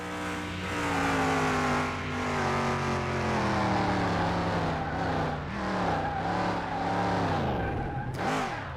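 Simulated car engine from Car Mechanic Simulator 2021 held near top speed, a loud sustained high-revving drone with steady harmonics that wavers slightly, ending in a brief sharp noise.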